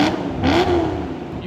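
A BMW E92 M3 with a homemade custom exhaust revs close by, its engine note climbing in two quick blips and then holding a throaty, slowly falling tone.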